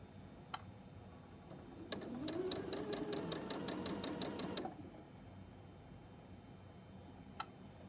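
A sewing machine stitches fabric strips for a scarf in one quick, even burst of rapid ticking lasting a few seconds, faint and close, with isolated clicks before and after.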